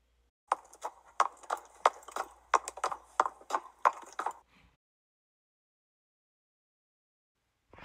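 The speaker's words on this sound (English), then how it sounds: "He can sound like horse feet." A quick run of hollow wooden clip-clops, about a dozen uneven knocks in a trotting rhythm, then stopping into silence.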